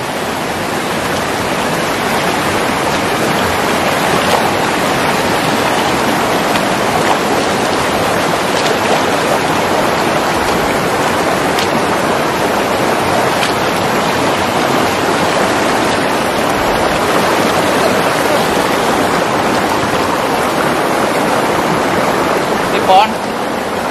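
A forest river flows steadily beside large trees, a loud, continuous rushing wash of water that stays even from start to finish.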